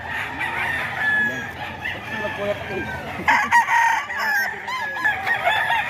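A rooster crows at a poultry seller's place, its calls cutting in loudly near the middle and repeating with clucks from other fowl around, while people talk in the background throughout.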